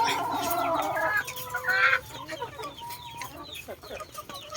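Layer hens in a backyard chicken coop cluck and squawk close by, busy overlapping calls, with a short loud burst near the start and softer clucking after.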